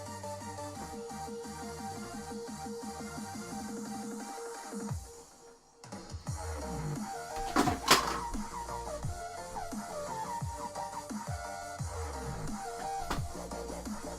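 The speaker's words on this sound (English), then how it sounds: "That was the sound of another gun falling down that I'll have to repair later." Amid a steady background hum, a short sharp clatter of a small plastic model kit gun from an RX-78-2 Gundam kit hitting a hard surface, close by, then the noise continues.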